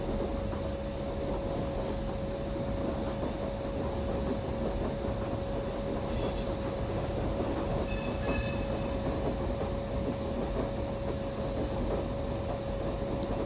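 Onboard the 12628 Karnataka Express from Bangalore to New Delhi as it overtakes the Mahamana Express on the way to Kota Junction: a continuous rolling rumble of wheels and carriages with a steady tonal hum and occasional higher squeals.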